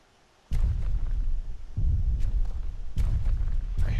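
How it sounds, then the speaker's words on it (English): Heavy, deep thuds of a large video-game dinosaur land one after another at a slow, uneven pace, each a booming low rumble like giant footsteps. "I hear something big walking below us."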